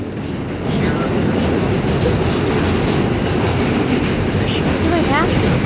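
New York subway W local train in motion, a loud, steady rumble with rhythmic wheel clatter and faint squeals, heard from inside the car near Bedford Avenue station with scattered voices around.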